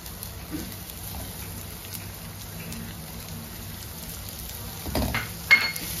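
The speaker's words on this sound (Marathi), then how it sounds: "आपण त्याच्यात कांदा टाकूया कापलेला" Chopped onion fries in a pan for pav bhaji with a steady, rain-like sizzle. A few louder clatters and stirring knocks come near the end, and no one talks.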